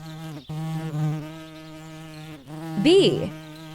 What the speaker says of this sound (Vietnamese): Con ong